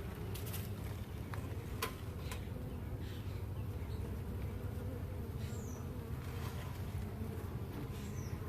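Honey bees in an aquarium observation beehive hum in a steady, continuous buzz with no talking, as individual insects zip close by now and then.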